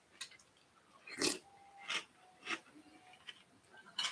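Crunchy Boo Berry cereal in milk is chewed close up, giving a series of short, crisp crunches spaced about half a second apart, with no talking.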